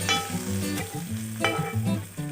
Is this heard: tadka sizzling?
yes